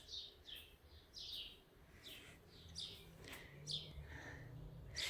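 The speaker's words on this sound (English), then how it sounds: "now just listen to the birds" Birds chirp and tweet repeatedly in short bright bursts, with several calls overlapping against a quiet outdoor background just after heavy rain.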